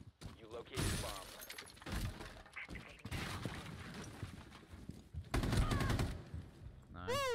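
Gunfire in a Rainbow Six Siege ranked match, several sharp bursts and single shots with breaking, shattering debris, mixed with game sounds and a voice talking over it.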